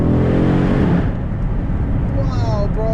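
Mercedes AMG E63 S 4Matic+ engine accelerating at night near a tunnel, a loud rising growl from inside the car that fades into road rumble, with someone talking over it.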